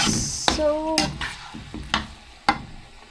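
Chinese leaf being stir-fried for Singapore noodles, with a bright hiss of sizzling oil, brisk clacks and scrapes of a utensil against the pan in an irregular rhythm, and a brief voice in the background.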